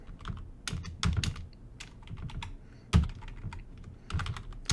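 Fingers tapping out numbers on a computer keyboard, a run of quick, close key clicks in uneven bursts with brief pauses, nobody talking.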